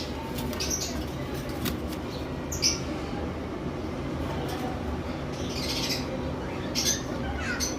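Pet lovebirds and cockatiels kept in breeding pairs with a nest box squawk in short sharp bursts now and then over a steady background hum.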